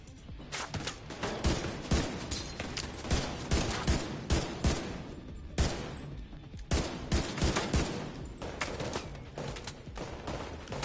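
Rapid bursts of gunfire from a shooting video game crackle almost continuously, with dense volleys and short gaps, loud and close throughout.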